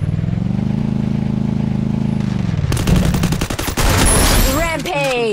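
Gunfire in the mobile shooter Free Fire: after a steady engine drone, rapid bursts of automatic shots crackle loudly and close, with a player's voice talking over the action.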